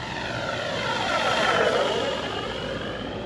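A FlightLine Corsair RC model warplane flies overhead at reduced throttle, its propeller and electric motor making a steady buzzing drone that swells slightly as it passes nearer, then eases, with no speech.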